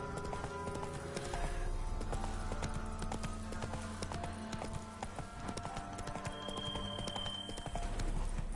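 Roach, a horse in The Witcher 3, gallops in a continuous, rapid clip-clop of hooves that runs loud throughout under game ambience.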